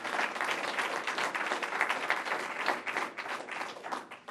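An audience applauds at a community fund event in Prince George's County, a dense, even wash of many hands clapping, sustained and moderately loud throughout with no talking.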